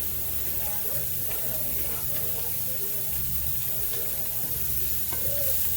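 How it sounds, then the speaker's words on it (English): Ingredients for keto fried rice sauté in a hot pan, with a constant loud sizzle and occasional stirring scrapes heard up close. "you're going to saute this for a minute till it's tender"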